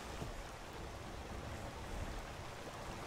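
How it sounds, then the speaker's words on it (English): Rain falls in the video game Skyrim, a steady, dense hiss of broadband noise that stays even and fairly faint for the whole stretch, with no voices over it. "It's raining right on top of us"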